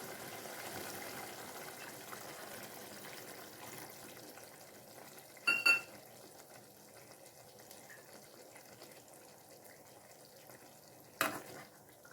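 Tamarind water poured into a simmering fenugreek-leaf tamarind curry, a soft continuous watery bubbling with a couple of brief louder splashes and stirs.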